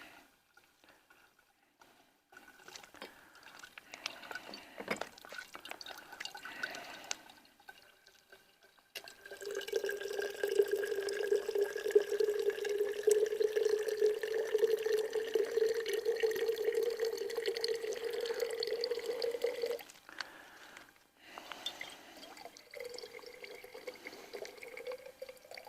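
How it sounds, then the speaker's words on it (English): Filtered water from a squeezed Sawyer Squeeze filter bag trickles into a jar, heard as faint drips that build into a thin, steady stream with a rising tone as the jar fills, then stop. "So just put the bag up here and squeeze."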